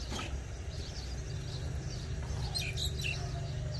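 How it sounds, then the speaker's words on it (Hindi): Birds chirp in the early morning, faint and a little distant, with a few short tweets clustering near the end over a low, steady background hum. "चिड़िया की आवाज"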